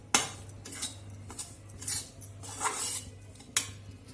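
A spoon scrapes and clinks against a pan while semolina dry-roasts for sooji halwa, a steady low hum underneath and a few sharper metallic knocks spaced through the stir.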